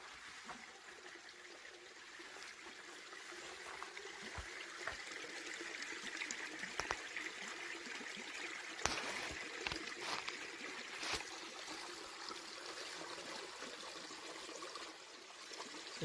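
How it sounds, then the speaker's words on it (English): Creek water trickles and flows steadily along a Pacific Crest Trail section, a continuous close babbling wash that holds even throughout, with a few faint clicks and knocks on top. "We could get water at this creek"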